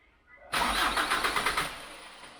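A Chevrolet Tracker engine, just after a fuel filter change, cranks briefly and fires up close by, settling into a rough, pulsing idle.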